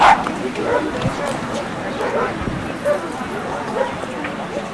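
At a 1997 dog club annual meeting, a dog barks in a few sharp yips and whimpers amid a busy crowd with people talking nearby.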